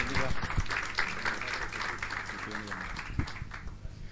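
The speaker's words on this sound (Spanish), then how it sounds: "un aplauso al Señor" Congregation at a Spanish-language revival church conference applauding, a fairly faint wash of clapping under a voice speaking over a microphone, with a few sharper thumps.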